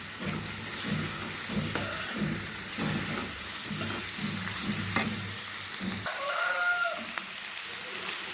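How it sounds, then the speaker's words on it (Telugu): Chicken and onions fry in a little oil in a pan, a steady close sizzle with the rhythmic scrape and clatter of stirring throughout, quieter and smoother toward the end. "దీంట్లో కావాల్సినంత కొంచెం నూనె వేసేసుకొని చక్కగా ఫ్రై చేసుకోండి."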